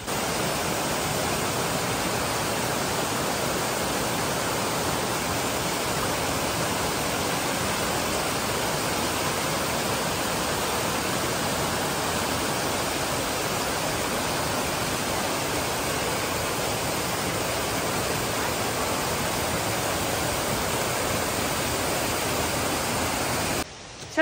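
A waterfall roaring in Pylypets, Zakarpattia, a loud, steady, broadband rush of falling water that holds unbroken for over twenty seconds with no voices.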